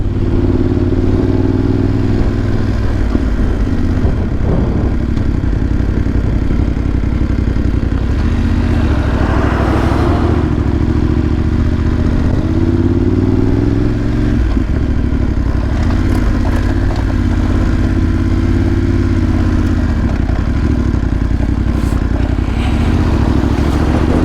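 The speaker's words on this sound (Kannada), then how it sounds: "2 ಗಾಡಿ ಬರ್ತಾಯಿದೆ." Two vehicles pass close by at an army base near Chicham in Spiti, their engines droning loudly and steadily with a rattling clatter.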